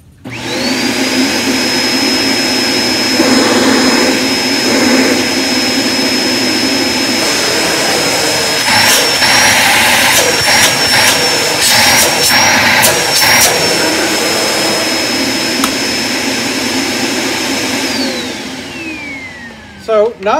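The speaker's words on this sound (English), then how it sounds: "So not bad when it comes to suction, you know, I mean, it's your standard cleaner." A Kenmore Intuition vacuum cleaner runs close up with a steady, high-pitched whine and a constant suction roar, punctuated midway by brief knocks and rattles as it picks things up, before winding down at the end.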